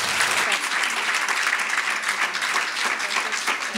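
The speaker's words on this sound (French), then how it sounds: "Une bonne main d'applaudissements pour Noémie Steyler-Rioux." A hall audience at an awards gala gives a full round of applause, many hands clapping in a thick, continuous wash that stays strong and even from start to finish.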